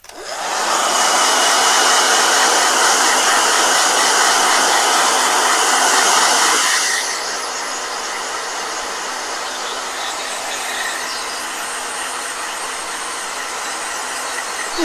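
A blow dryer aimed at a wet watercolor painting roars steadily and loudly for about seven seconds, then drops to a quieter, lower setting and keeps whooshing evenly, with no voices over it.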